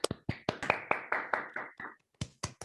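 An online audience claps after a mathematics talk: a short run of about a dozen sharp, separate hand claps, close to the microphone, with a brief pause before a few final claps.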